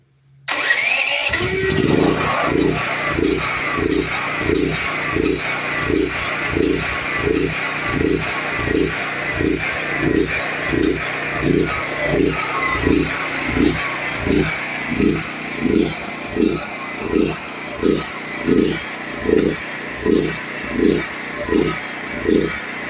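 A sick Duromax generator cranks and catches, then runs on with a rough, loud engine drone that pulses in a steady rhythm, close by for about twenty seconds.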